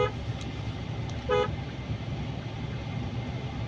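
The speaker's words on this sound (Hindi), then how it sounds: "इसके हॉर्न साइड में है।" A Mahindra XEV 9e electric SUV gives one short horn toot, about a quarter of a second long, over a steady hum of road and cabin noise. There is no speech.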